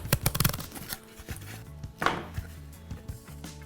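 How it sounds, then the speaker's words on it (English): A knife scrapes down floral material for a stylish vase arrangement. Quick, close strokes rattle out in a dense burst at first, then thin to a few sparse knocks and scrapes. "Just use your knife and just scrape down."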